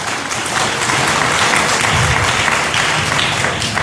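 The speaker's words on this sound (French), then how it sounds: "Est-ce que nous acclamons pour le bon Dieu?" A church congregation applauding during worship, dense sustained clapping from many hands filling the room, loud and steady throughout.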